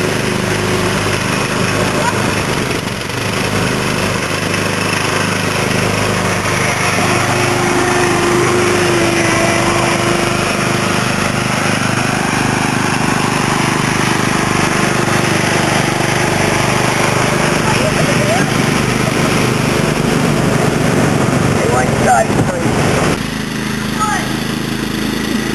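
Several John Deere lawn tractors race outdoors, their small engines droning loud and continuous with a high whine throughout, while voices talk over the steady running noise.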